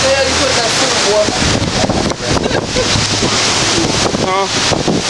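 Strong wind from Hurricane Ike in Texas roars and buffets the microphone in loud, continuous gusts that rise and fall, with no other sound standing out.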